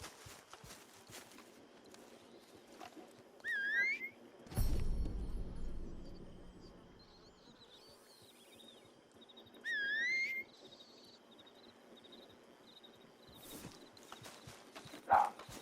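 A horse in Red Dead Redemption 2 walks with soft, steady clip-clop hoofbeats under game ambience, joined by brief whistle-like calls and a burst of low rumbling, with a few louder knocks scattered across the stretch.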